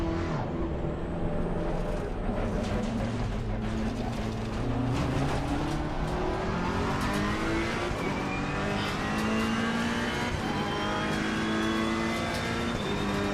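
A race car engine in Assetto Corsa Competizione revs steadily and continuously, its pitch climbing repeatedly through the gears for many seconds, loud and close.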